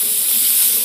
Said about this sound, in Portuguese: A gente refoga ela aqui. Essa panela, ela esquenta muito.